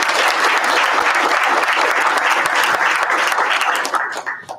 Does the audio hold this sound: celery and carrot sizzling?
no